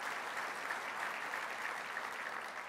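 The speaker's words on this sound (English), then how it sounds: "Again, a round of applause for" Audience applause at a city address event, a dense, steady wash of clapping from a large crowd that holds at an even level throughout with no voices over it.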